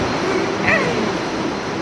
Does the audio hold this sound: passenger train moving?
yes